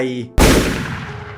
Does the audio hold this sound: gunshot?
yes